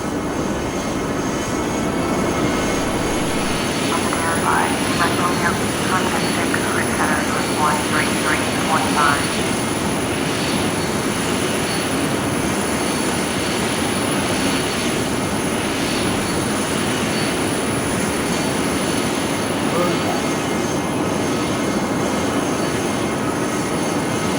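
Bombardier Learjet 45 jet taking off from Kelowna, Canada, and climbing, with a loud, sustained engine roar heard from the cabin, constant and unbroken throughout.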